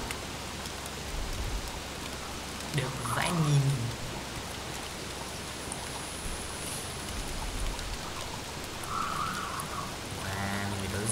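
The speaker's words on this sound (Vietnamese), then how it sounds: "Tao sẽ đứng đây cho đến khi nó hết mưa." Rain falls in the video game Don't Starve Together, a steady hiss of drops through the whole stretch, with a voice speaking briefly over it and a few short game sound effects.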